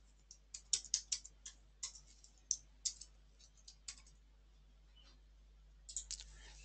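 Fingers tapping a computer keyboard while entering record parameters, a quiet run of irregular, close, crisp keystrokes with short pauses, then a final burst, over a low steady hum.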